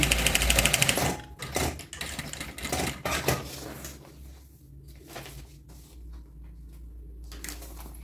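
A sewing machine topstitches a fabric pouch with nylon 40 thread in a loud burst of rapid stitching. Short, softer runs and clicks follow as the fabric is adjusted.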